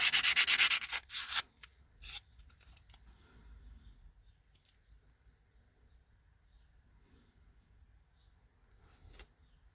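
Sandpaper rubs against a metal tuning ring for an Airsal T5 103 cylinder to remove scratches, with a loud scraping burst at the start, then intermittent softer strokes and a final short scrape.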